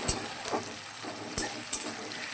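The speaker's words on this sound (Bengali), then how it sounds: "ভালো করে আমি কষিয়ে নেব ভাজা ভাজা করে।" Spice masala frying in oil for Bengali egg tadka: a quiet, even sizzle broken by three or four sharp spoon knocks against the pan, close by, with no voices.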